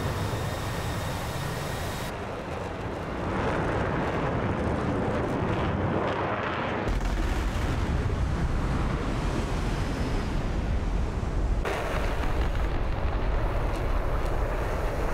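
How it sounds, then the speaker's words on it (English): AI dive-bombing in the DCS flight simulator releases bombs that hit as deep, roaring blasts, with two abrupt swells into a sustained rumbling wash of explosion and wind-like noise that stays loud throughout, with no talk. "That's the new AI dive bombing method within DCS now."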